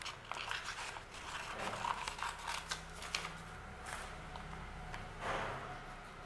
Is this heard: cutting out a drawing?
yes